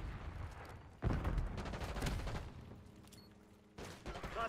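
Video game gunfire erupts around a high-value target on the Skyline map, a dense fusillade of cracking shots and bursts, fairly faint and distant, with a couple of sharper volleys near the start and end.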